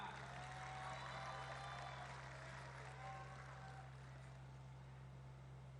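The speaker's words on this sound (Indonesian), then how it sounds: "Kita beri tepuk tangan yang meriah." An audience at a Golkar party anniversary event gives a round of applause for the President, a steady, fairly distant clapping wash over a low hum that fades slightly toward the end.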